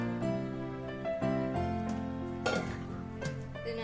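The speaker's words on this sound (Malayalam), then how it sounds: "വേവിച്ച് വെച്ചേക്കുന്ന മട്ടൻ ചേർത്ത് കൊടുക്കുക." Cooked mutton sizzles and fries in a pan while being stirred, with steady clattering scrapes against the cookware and a constant hiss underneath.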